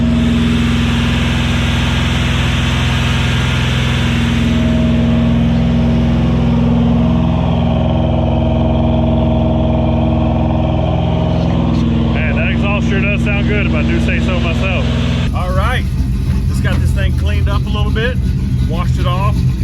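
A swapped engine in a Chevrolet C30 dually runs steadily at 2,500 RPM, a loud, continuous close-up drone under a person talking.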